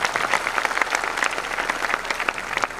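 An audience claps and applauds to welcome a doctor onto the stage at an Independence Day celebration, a dense, sustained round of clapping with no talk over it.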